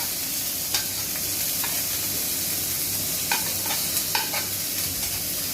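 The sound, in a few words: onion and curry leaves frying in hot oil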